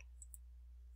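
A few faint, sharp clicks, like a computer mouse button, sound sparsely against a quiet, humming background.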